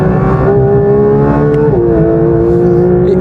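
Loud, steady exhaust drone from a Porsche GT3 fitted with an IPE exhaust and IPE wheels, holding a rich harmonic tone with a brief dip in pitch midway before settling again; continuous and close, with no talking.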